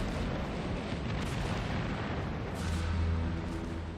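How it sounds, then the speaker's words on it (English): The aft magazine of the battlecruiser Hood blows up in a huge naval explosion, a dense, continuous roaring rumble that fills the whole stretch with no break. "There was a huge explosion."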